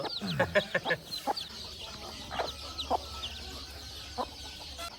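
Country hens cluck in short bursts close by, several birds with chicks calling irregularly over a low steady hum, with no talking.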